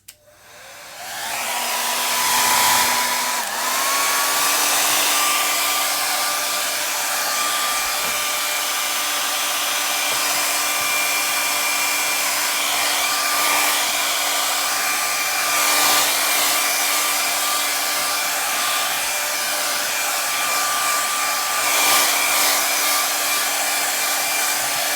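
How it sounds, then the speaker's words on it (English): A hair dryer on its cool setting blows over a chalk transfer, switching on with a rising whir and then holding a steady loud, close motor hum with airy rush for the whole stretch, no talking. "Hair dryer, go away."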